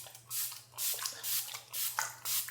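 A facial mist bottle is pumped in a morning skincare routine, giving five soft, hissing bursts in an even rhythm, quiet and close, with a low hum underneath.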